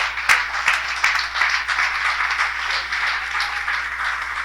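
A church congregation breaks into steady, broad applause, many hands clapping together at close range and fairly loud, with a sharp clap or two standing out near the start.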